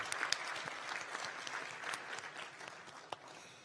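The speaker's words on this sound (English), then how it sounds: "Can we please give a round of applause for all the student organization members in the room" Room audience applauding student organization members at a university leadership awards ceremony, a steady, fairly faint wash of many hands clapping throughout with a few sharper claps standing out.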